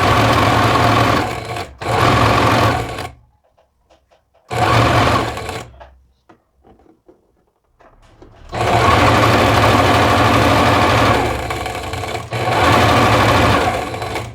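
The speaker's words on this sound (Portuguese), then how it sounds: "Então eu sei que eu vou costurar certinho" A sewing machine stitches fabric in loud, fast continuous bursts, stopping twice for pauses filled with faint handling noises before running steadily again at close range.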